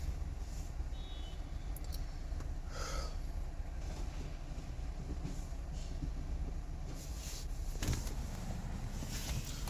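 A 2008–2013 BMW E92 sits idling in a workshop, giving a steady low rumble that runs evenly throughout with no talk over it.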